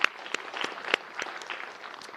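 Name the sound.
applause at board meeting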